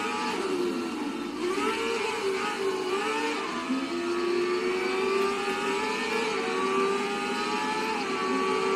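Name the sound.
car engine revving in Race Driver GRID video game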